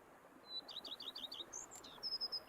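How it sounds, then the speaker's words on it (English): Birds chirping in The Witcher 3: Blood and Wine, a faint quick series of high tweets followed by a few sharper calls, soft and somewhat distant over a quiet background. "Bees buzzing, birds chirping."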